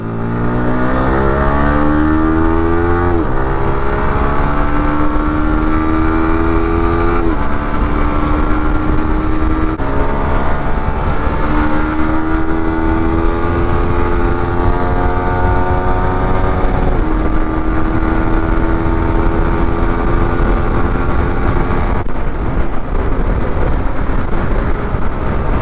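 A 155cc motorcycle with a quick shifter riding along, its loud close engine note climbing in pitch through gears with several shifts, steady revving and acceleration throughout.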